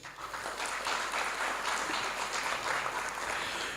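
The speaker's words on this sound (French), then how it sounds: "je vous demande d'applaudir très très fort" Audience applause at a panel session of an employment forum, a faint but dense burst of clapping that continues steadily from start to finish.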